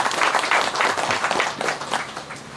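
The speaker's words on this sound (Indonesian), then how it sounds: "Tepuk tangan dulu." A gathering about farming cooperatives claps loudly and steadily, with individual hand claps audible in an uneven, pulsing rhythm.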